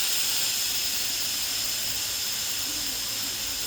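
A pressure cooker releases its steam in a loud, steady hiss that runs unbroken from start to finish, with no voices.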